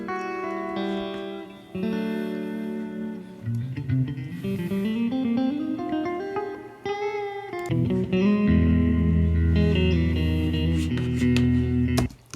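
Clean electric guitar through an amp, recorded with a 57 microphone, playing chords and a rising single-note line, with a fuller, heavier low end near the close.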